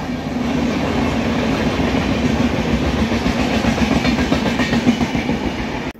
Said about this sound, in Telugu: Telangana super fast express.